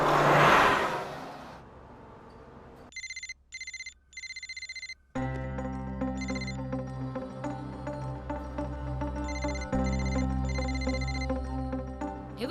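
A telephone rings in bursts of bright electronic trilling, answered by a pulsed ringback tone over a low hum and a car engine in a Telugu film scene, with no speech.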